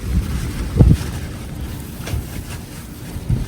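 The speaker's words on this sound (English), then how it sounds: "It is really windy right now." Steady outdoor wind buffets the microphone in a low continuous rumble, with a few louder gusts thumping through and no one speaking.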